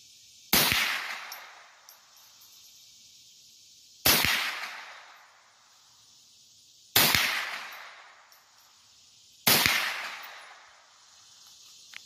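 Four loud single gunshots ring out at a shooting range, spaced roughly three seconds apart, each a sharp crack followed by a long echoing decay, with a steady insect-like hiss in the background.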